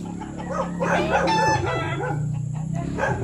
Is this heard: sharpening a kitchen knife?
no